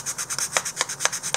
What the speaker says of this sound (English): I want to see if I could take it, take some sanding paper,